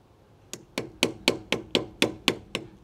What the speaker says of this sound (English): Kind of tap in there, maybe use the screwdriver a little.